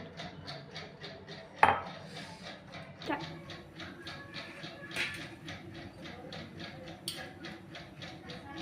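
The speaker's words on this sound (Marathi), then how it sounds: "हे मी कांडून घेते। बघू शकता आपले खोबऱ्याचे वाटण।" Grated coconut with curry leaves is pounded into a paste for masala khichdi, making a rapid, regular series of dull strikes that runs throughout, with a few sharper knocks standing out.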